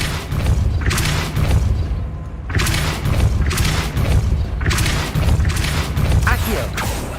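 Depulso spells cast in the Hogwarts Legacy video game land as three loud bursts, each a roaring, rumbling blast of a second or more with mechanical clanks, separated by short lulls over a constant low drone.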